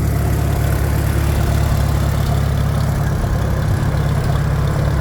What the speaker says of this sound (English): We're going to shut the gas off on the Farmall, and we're gonna let it run out.